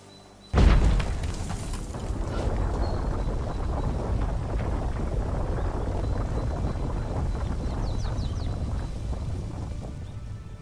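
A bomb explodes in The Witcher video game with a sudden loud boom, followed by a long rumbling, crackling roar that carries on steadily under wind-like noise.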